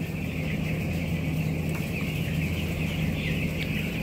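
Chickens clucking and murmuring inside a crowded poultry house as a constant background chorus, fairly loud and steady with no one speaking.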